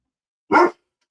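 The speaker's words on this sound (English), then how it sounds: "barking at somebody." A single sharp dog bark, close and fairly loud, stands alone against silence.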